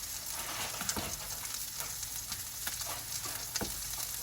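Pork searing in a pan for cross-hatch marks while fettuccine Alfredo is stirred nearby: a constant close sizzle with occasional faint clicks and scrapes of utensils, no talk.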